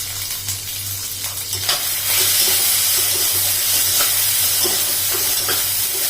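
Green peas cooking in a pan with asafoetida and salt, a steady sizzle with occasional scraping and stirring sounds, close and fairly loud, no talking.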